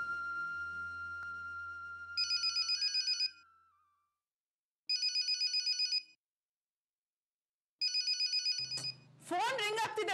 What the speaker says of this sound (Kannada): ಫೋನ್ ರಿಂಗ್ ಆಗ್ತಿದೆ, ತಗೋಬಾರ್ದಾ?